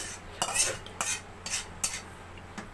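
Lotpoti, a tripe dish, is stirred in a pan in a home kitchen: a spoon scrapes and clinks against the metal several times in an uneven rhythm, close and clear over a low background hum.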